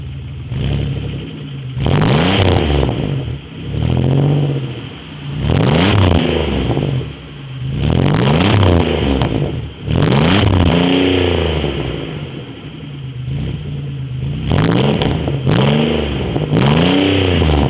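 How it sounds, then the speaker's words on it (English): A Chevrolet Beretta's 3100 V6, warmed up after a cold start, revs repeatedly in loud close bursts that climb and fall back, about six throttle blips spaced a couple of seconds apart with no talk over them. "Let's give her a quick rev."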